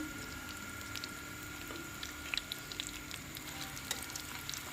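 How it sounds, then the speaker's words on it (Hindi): Chicken-filled potato kababs fry in a pan, a quiet, steady sizzle with scattered tiny pops and crackles from the oil, close and continuous with no talking. "कितने ज़बरदस्त जो है ये फ्राई हो रहे हैं।"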